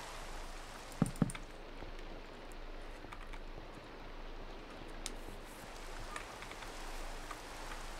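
Steady rain in Minecraft, a soft even wash of falling drops that holds for the whole stretch, with a couple of sharp thumps early on and faint game effects scattered through.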